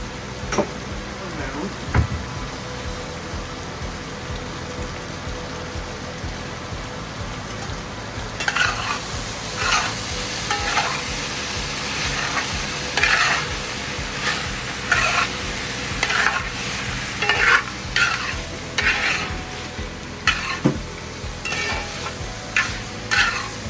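Beef frying in a pan with salt and pepper, steady sizzling under repeated scraping stirs of a utensil that grow busier partway through, with occasional talk nearby.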